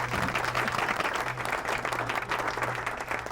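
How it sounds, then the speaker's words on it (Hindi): A studio audience claps loudly and continuously on a comedy show, a thick even burst of applause with a low steady hum underneath. "बजाओ तालियां।"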